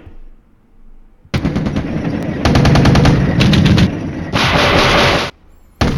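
Loud gunfire from the Flashpoint Campaigns wargame, where a Scott tank knocks out a T-80: several rapid, sharp bursts of automatic fire, stopping and restarting, close and alone with no talk.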